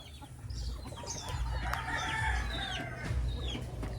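Several chickens and a rooster cluck, with brief crowing, in a backyard coop behind a house. The calls come steadily at a moderate distance over a low background rumble.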